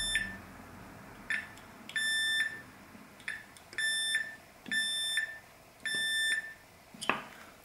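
A multimeter on its continuity setting beeps in a series of short and longer steady tones with gaps between them while probes check ground connections to a metal chassis of a speaker switch box, close and clear.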